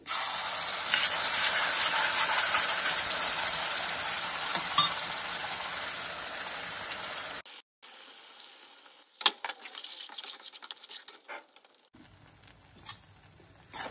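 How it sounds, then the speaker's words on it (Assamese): Masala paste for dhaba-style paneer gravy sizzles and fries in a pan with a loud steady hiss for several seconds, then briefly cuts out before scattered sputtering, stirring and quieter crackling. "মছলাখিনি ফ্ৰাই হৈ গৈছে"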